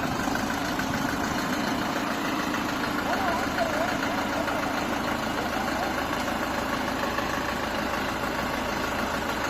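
An MC504 four-wheel-drive tractor's engine runs at a steady, rumbling idle-like drone while being unloaded from a truck in the rain, continuous and fairly close, with a person speaking over it.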